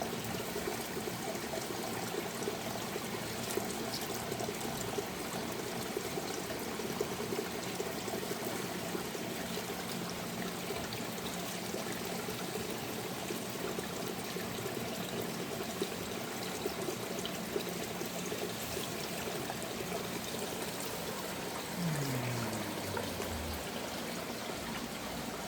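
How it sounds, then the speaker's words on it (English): Water trickles steadily into a cleared path by a root, a soft continuous stream and dribble that stays even throughout, moderately faint with no talk. "So the water comes in right there."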